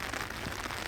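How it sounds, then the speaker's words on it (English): Rain falls in a steady, dense patter, a continuous close wash of droplets with no voices. "It is incredibly rainy today."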